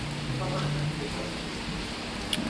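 Steady rain falls at a Thai campsite, a constant soft wash of drops with a brief brighter patter near the end and no talk.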